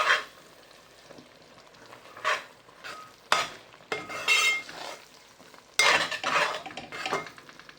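A spoon scrapes and stirs gram flour into a vegetable stuffing in a pan, producing irregular bursts of clattering and scraping separated by quiet pauses, close and fairly loud.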